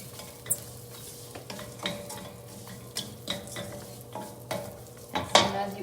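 Oats and cinnamon toast in a pan, giving a faint low sizzle under repeated scraping and stirring clinks of a utensil against the pan, close by and with no voices.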